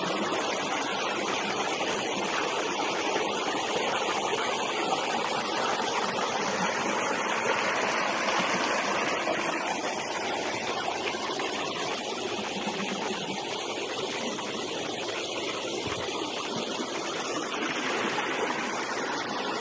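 The Kabardinka river rushes through a gorge in Kislovodsk, a steady, dense roar of flowing water running unbroken and fairly loud throughout.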